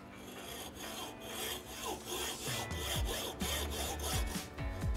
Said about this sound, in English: I'll just take this hacksaw, and I'm going to cut through here